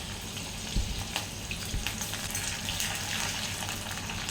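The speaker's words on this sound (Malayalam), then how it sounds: "ഇതുപോലെ ഇളക്കി ഇതൊന്ന് ഒരു ലൈറ്റ് കളറാകുന്ന വരെ നമുക്കിതൊന്ന് വഴറ്റിയെടുക്കാം" Green chillies and curry leaves sautéing in oil for a bitter gourd pickle crackle in a steady, close hiss, with a couple of soft stirring knocks against the pan.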